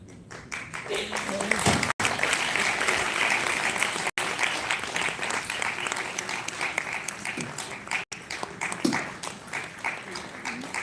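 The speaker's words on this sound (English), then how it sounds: "if you liked it, you can clap harder" An audience at an Inner Wheel inter-city meet applauds the actors on stage with sustained, dense clapping, and people talk over the clapping.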